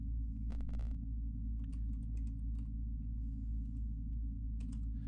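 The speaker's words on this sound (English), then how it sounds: "To prove to me that you are still paying attention. Type that phrase for me." Keys clatter on a computer keyboard while a phrase is entered during a game of Pony Island, a few quick bursts of clicks over a constant low hum, with brief gaps between them.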